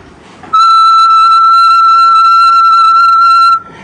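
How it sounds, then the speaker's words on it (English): A person whistles one constant pitch, a clean, loud tone that starts abruptly, holds steady for about three seconds and then stops, set against a quiet room. "when I whistle"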